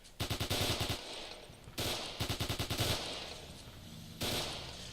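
Machine gun fire in Arma 2 comes in rapid bursts of about ten rounds each, loud and rhythmic, with short pauses between and a final single burst, and no talk.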